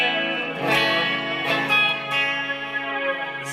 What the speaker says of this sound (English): then the flurb, which is like flanger and reverb